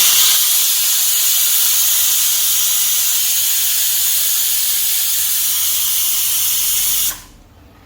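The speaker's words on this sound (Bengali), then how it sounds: "এখন এখানে হচ্ছে শাক সেদ্ধ" Steady loud hiss of steam rising from a pot of boiling saag greens in a home kitchen, continuous and broadband for about seven seconds before cutting off abruptly.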